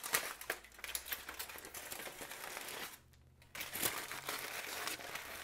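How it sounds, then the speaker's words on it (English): Aluminum foil peeled and crinkled off a rested, roasted whole chicken: dense, close crackling and rustling that runs nearly nonstop, with one short pause before the crinkling picks up again. "And now, let me go ahead and remove this foil."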